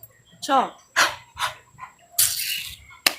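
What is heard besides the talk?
dog barking in the background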